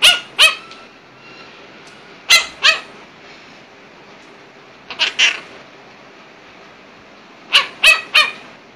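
A monk parakeet imitates a dog, giving sharp paired bark-like squawks up close, four separate bursts of two spaced across quiet pauses.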